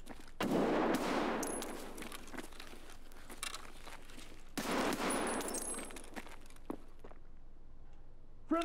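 Gunfire in the video game Escape from Tarkov, two loud broadband bursts of shots, each lasting a few seconds with a sharp tail, followed by scattered softer clicks and thuds.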